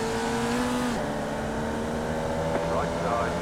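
Formula Vee race car engine droning steadily on a track, with a sustained buzzing tone that shifts pitch as it accelerates and shifts gears, heard from on board.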